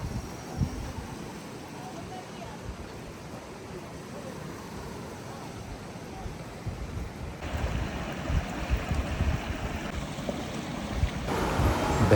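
A mountain stream, a nala along a trekking route in Kashmir, rushes steadily nearby as a broad wash of flowing water, growing louder toward the end, with wind buffeting the microphone.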